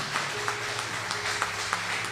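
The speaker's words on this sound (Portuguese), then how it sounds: "dá um aplauso ao Senhor." A church congregation gives applause to the Lord during a Portuguese prayer service, a soft, steady patter of scattered clapping at moderate distance with a few sharper individual claps.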